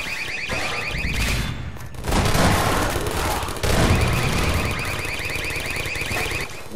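A deployed turret fires at enemies in the co-op game Synergy, a rapid, continuous burst of automatic gunfire mixed with a warbling electronic tone and loud booms, sustained across the whole stretch with no talking.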